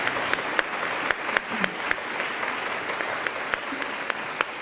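An audience at a session on the status of women in Arkansas applauds steadily throughout, a dense wash of claps with a few sharper individual claps standing out.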